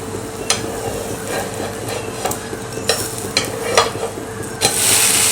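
Jowar flour amboli flipped on a hot pan, giving a steady close sizzle with a few sharp scraping clicks from the turn and a brighter hiss rising near the end.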